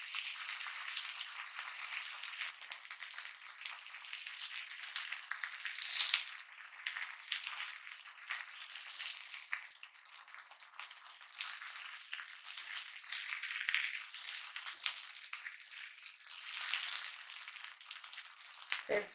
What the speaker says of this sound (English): it's been around like 10 to 15 seconds that the uttapam has been cooking on the surface